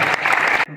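A short burst of audience applause for guests at a talk-show meet-up, loud close clapping lasting under a second before cutting off abruptly.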